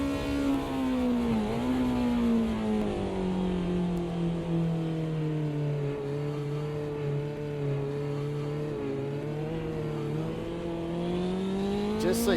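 BMW Group 5 race cars in a DRM Legends race at Cleveland Airport accelerate with a loud, sustained engine note that rises and falls steadily, holding a close, continuous roar throughout.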